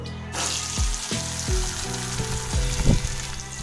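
Boiled potatoes fry in hot oil with sesame seeds and garam masala, a close, crackling sizzle broken by several scraping strokes of a spoon stirring against the pan at irregular intervals.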